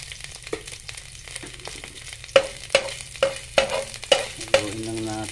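Garlic sizzles in a tablespoon of hot oil while a utensil stirs it, a steady frying hiss punctuated by a series of clear scraping strokes near the end.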